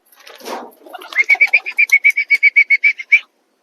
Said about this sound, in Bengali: চলা সব পায়রাগুলো সকাল সকাল উড়িয়ে দিচ্ছি